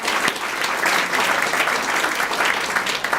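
A crowd at an award ceremony applauds in a dense, even burst of clapping that carries on for a few seconds without a break.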